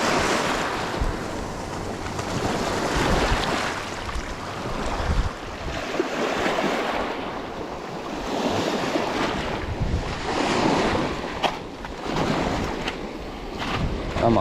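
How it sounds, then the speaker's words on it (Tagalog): Waves wash onto the shore at high tide in steady surges of rushing surf, mixed with wind buffeting the microphone, fairly loud and continuous with no talking. "High tide po ngayon mga master."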